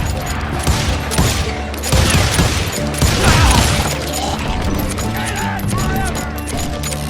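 Gunfire from hired gunmen in the Western shooter game Call of Juarez: Gunslinger, dense overlapping shots and booms in loud sustained bursts, with a voice speaking over parts of the action.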